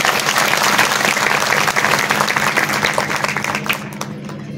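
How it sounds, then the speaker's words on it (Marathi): A village audience at a Ganesh Jayanti lecture bursts into dense, loud applause that holds steady for several seconds, then thins and tapers off at the end. "आयाने पहिल्यांदा टाळ्या वाजवायला काय हरकत नाही"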